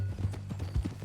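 Horse hooves clip-clop in a steady walking rhythm on a ground surface in Red Dead Redemption 2, several close, soft thuds heard with no talking over them.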